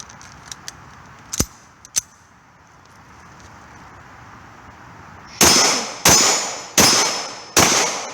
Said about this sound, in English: Gun locks to the rear, magazine reload.